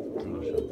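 Pigeons in a pigeon loft give a low, throaty coo close by, a brief soft murmuring call lasting under a second.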